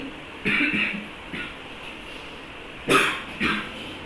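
A person with a cold coughs several times in short, sharp bursts, two clusters separated by a pause, loud and near against a quiet room background.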